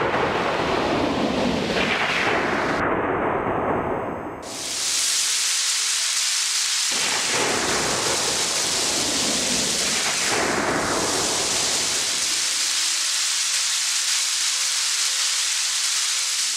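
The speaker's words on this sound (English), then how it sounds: "Lightning flashed, followed by a loud thunderstorm. Rain entered the forest." Thunderstorm sound effect for a stage play, with loud rolling thunder cracks recurring every few seconds over a steady wash of heavy rain and wind, no voices present.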